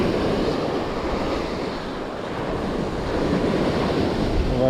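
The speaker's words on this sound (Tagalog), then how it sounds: "Malakas ng alon ngayon mga master." Big ocean waves surge and roar in a steady, loud wash under blustery wind in bad weather out at sea on a squid fishing trip, with no voices.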